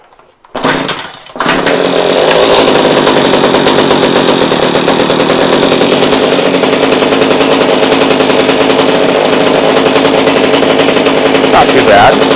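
A Stihl HS45 hedge trimmer's small two-stroke engine runs on choke, starting after a short burst and then holding a loud, steady, rattling buzz close by.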